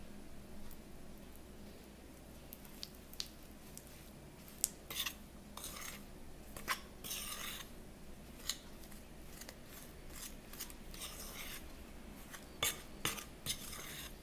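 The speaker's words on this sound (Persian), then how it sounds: "و روغن رو مقداری با هم مخلوط میکنم" Powdered sugar and oil being stirred together in a bowl, quiet irregular scraping and clicking of a utensil against the bowl, close and faint.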